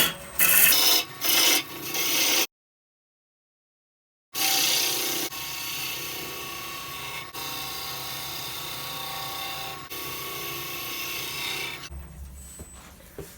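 Wood lathe turning a tenon on a wild birch bowl, a steady rasping, scraping cut that runs throughout with a brief gap of silence near the start.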